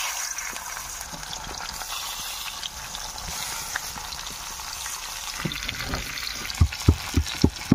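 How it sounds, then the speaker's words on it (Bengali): Fish frying in a pan over an outdoor fire on a fishing trip by the Matla river in the Sundarbans, a continuous hissing sizzle with faint bubbling, ending in a few close knocks of a utensil. "এবার মাছটা ভাজবো।"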